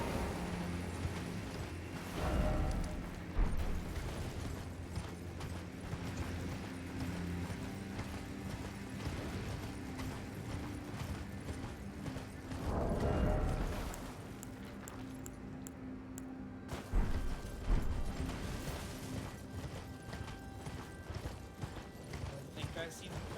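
Horse hooves galloping in the Elden Ring video game, a steady rhythmic clip-clop running through most of the clip over game ambience and music, with louder surges around landings.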